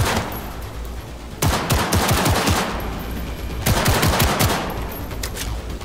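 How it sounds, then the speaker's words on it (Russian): Automatic combat turrets in Cyberpunk 2077 fire loud, rapid machine-gun bursts, two sustained volleys separated by a brief lull, with no talking over them. "А, это боевые турели."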